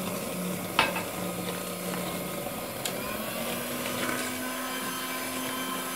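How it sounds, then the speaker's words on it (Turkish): A spoon stirring wet cake batter in a bowl just after oil is poured in, a soft continuous scraping and swishing with a couple of light knocks against the bowl, steady and close with no talking. "Tekrar karıştırıyoruz."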